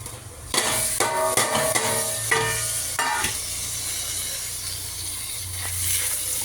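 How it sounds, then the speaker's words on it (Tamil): Mudakathan leaves and salt tipped into a hot dry-roasting pan after the stove is switched off, with a few metallic scrapes and clinks of stirring over a soft lingering sizzle and hiss. "இப்போ வந்து ஆஃப் பண்ணிவிட்டு நான் இந்த இலையும் உப்பும் போடுறேன்."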